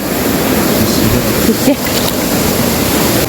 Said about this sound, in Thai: ตอนนี้เราก็ มาถึงน้ำตกแล้วนะคะ